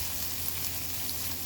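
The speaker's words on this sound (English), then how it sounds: "The onions are actually starting to get a little bit" Onions frying in a pan for kali mirchi chicken, a steady close sizzle with no talk.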